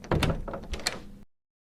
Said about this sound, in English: Then the door opened slowly.